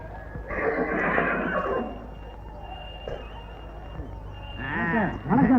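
A horse whinnies in a village preparing for its horse race, a loud shaky neigh near the start and another rising whinny close by at the end, with quieter stretches between.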